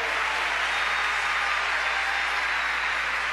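A church congregation at a Sunday service applauds in a continuous, even wash of clapping that holds at a moderate level from start to finish, with no voices on top.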